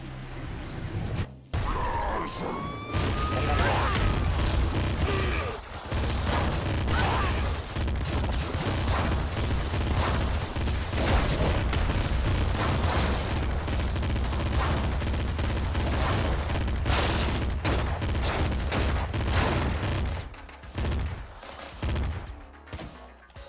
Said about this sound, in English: Steroids with two assault rifles.